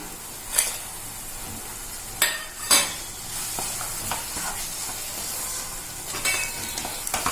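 Pineapple rava kesari with cashews and raisins is stirred in a pan, giving a soft sizzle under a few sharp scrapes and clinks of the spoon against the pan and no talk.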